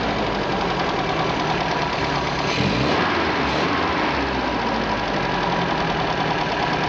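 An MG engine idles with its HIF carburetor set fully rich, a steady close rumble with an uneven, slightly lumpy beat running alone throughout.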